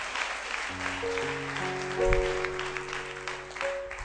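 A congregation at a church service breaks into applause together with sustained organ or keyboard chords, the clapping steady and swelling briefly near the middle before carrying on under the music.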